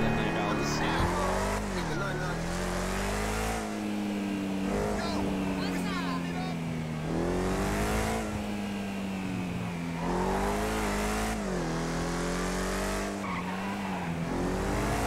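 Car engine in a GTA roleplay game, a loud continuous drone that rises and falls through repeated revving and gear shifts with occasional tire squeal, steady from start to finish.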